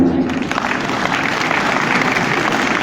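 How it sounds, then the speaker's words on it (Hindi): Steady audience applause filling the space, dense clapping from a crowd at a Hindi public talk on the state of Hindu society, sustained and fairly loud with no speech over it. "अब आप चाहें तो ताली बजा सकते हैं"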